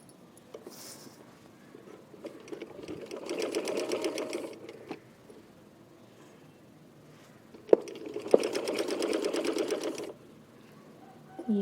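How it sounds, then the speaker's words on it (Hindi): A sewing machine stitches a printed yoke in two separate bursts of fast rhythmic needle clatter with a motor hum, quiet handling sounds between them. "ये आप देख रहे हैं मैं एक पैर के मुताबिक सिलाई कर रही हूँ ताकि डिस्टेंस बराबर हो।"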